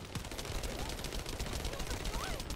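Rapid gunfire rattles steadily in The First Descendant, a sci-fi looter-shooter, as dense automatic bursts sit in the mix with a game voice and players talking over it.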